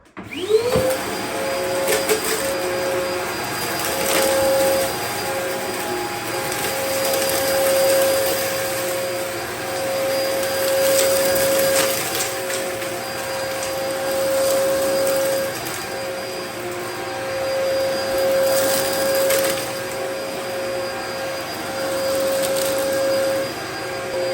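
A Dyson DC01 vacuum cleaner runs steadily with a loud droning whine and a high pitched tone, its pitch wavering slightly as it is pushed back and forth, debris scattering out the back.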